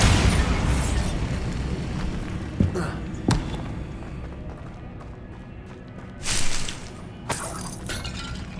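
In the Hogwarts Legacy game on PC, Bombarda blasting spells go off as several sharp booms and shattering crashes amid battle noise, with a broad, rumbling burst near the middle of the clip.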